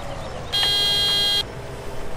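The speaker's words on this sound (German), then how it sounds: "Männliche Hupe." A deep vehicle horn sounds once in a single sustained honk lasting almost a second, loud and near, over a background of low traffic rumble.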